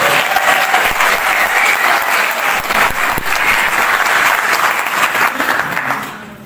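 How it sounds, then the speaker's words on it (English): An audience applauds a guest speaker at an evening talk, sustained clapping from a room of people at steady loudness that tapers off at the end. "so let's have a brief round of applause for Dave."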